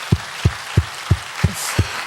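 A church congregation claps hands together in a steady unison rhythm, six sharp claps evenly spaced about a third of a second apart, loud and close in a reverberant hall.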